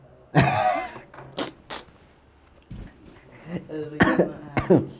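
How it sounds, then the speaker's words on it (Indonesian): Several sharp coughs burst out close by, spaced irregularly over a few seconds, with a throat-clearing quality and no speech around them. "Jadi batuk kan."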